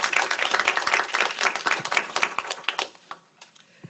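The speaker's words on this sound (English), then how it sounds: "let's give it a big round of applause" A small audience at a blockchain roundtable gives a brisk round of applause, dense clapping for about two and a half seconds that thins to a few scattered claps and fades out.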